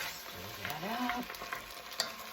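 A spoon stirs a cauliflower and tomato stew with coconut oil, ginger and turmeric in a pot, soft scraping and faint sizzling, quiet and close, with a few light clicks against the pot.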